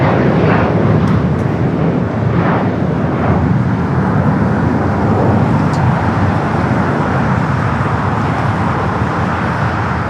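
A plane takes off at LAX with a loud, steady jet roar that fills the whole span, broad and rumbling, with faint background traffic noise mixed in and no talking.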